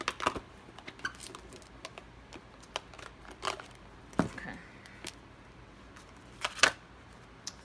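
Romance tarot cards being pulled out and handled, heard as soft scattered clicks, taps and brief shuffling rustles close up in a quiet room.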